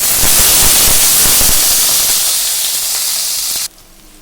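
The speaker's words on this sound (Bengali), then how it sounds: "দেওয়ার পরে দেখো গরম হয়ে গেছে তেলটা আগে আমি বেগুনটা ভেজে নেব" Eggplant frying in hot oil in a wok gives a loud, steady hiss that fills the stretch, with a few low bumps early on, then drops off sharply near the end.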